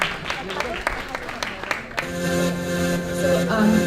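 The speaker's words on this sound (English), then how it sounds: "Let us give A round of applause for Wei Liang." Audience applause at a junior entrepreneurship forum, a short burst of claps at first that swells into a sustained wash of clapping with a steady tone underneath.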